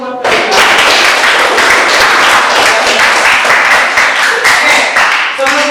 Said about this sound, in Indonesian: silakan tepuk tangan dulu buat kalian